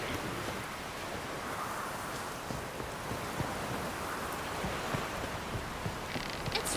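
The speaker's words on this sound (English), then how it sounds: "It's raining." Rain falls steadily in the video game The Witcher 3, a continuous wash of hiss with scattered faint drop taps throughout, moderately loud and with no talking.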